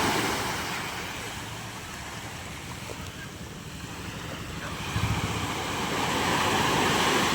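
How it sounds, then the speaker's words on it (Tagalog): Gentle waves wash continuously on a calm sea in the early morning, a broad steady rush with wind buffeting the microphone and swelling slightly toward the end. "Kalma-kalma ang ating dagat."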